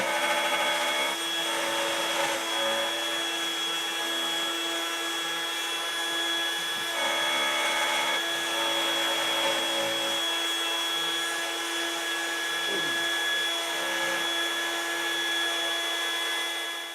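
A Genmitsu 3018 Pro CNC router runs steadily with a constant motor whine and cutting hiss, rising slightly in brief passes, close and moderately loud with no talking.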